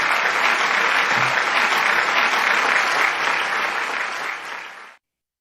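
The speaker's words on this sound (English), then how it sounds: "With a big, big round of applause, let's welcome Mr. Vinod Subramanianji." Sustained audience applause at a world parliament of science, religion and philosophy conference, a dense steady wash of clapping that holds for about five seconds and then cuts off.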